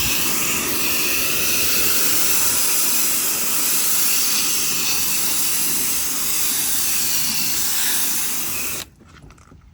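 A pressure washer sprays steadily while cleaning a wooden deck, a loud continuous broadband hiss and rush that holds for about nine seconds before cutting off abruptly.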